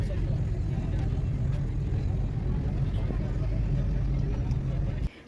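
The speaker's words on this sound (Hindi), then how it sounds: "हमारी बस आ गई है गाइस" A bus in the hills around Kasauli, India rumbles along, its low engine drone steady and close with faint road noise, then cuts off abruptly near the end.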